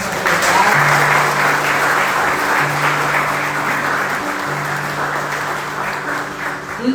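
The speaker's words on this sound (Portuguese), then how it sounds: "Você pode aplaudir a Deus por essa verdade." A church congregation at Ohana Church applauds loudly and steadily for about seven seconds, a dense wash of clapping over a sustained low instrumental note, with no talking.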